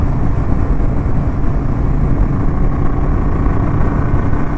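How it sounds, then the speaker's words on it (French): Strong wind buffets the microphone while riding a KTM motorcycle, a loud, steady low roar of rushing air masking the engine throughout, with no talking. "Le vent souffle fort."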